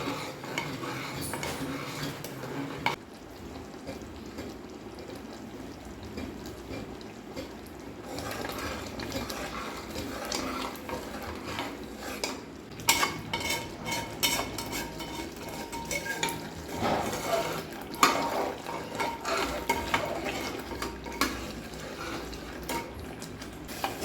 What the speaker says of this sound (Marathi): आता शेवट शेवट मी मोठा गॅस केला आहे आणि पटपट हलवून घेते